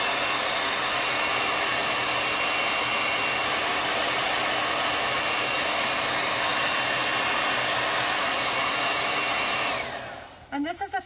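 A hair dryer blows steadily and loudly to dry ink on a thin fabric scarf, a continuous broadband whoosh that switches off near the end, leaving brief rustling.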